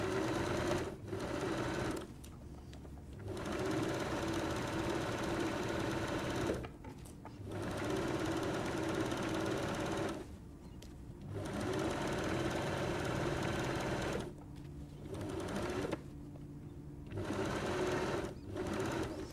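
A sewing machine stitches a drawstring bag in bursts of fast, even mechanical whirring, with short pauses between runs of stitching, close and clear.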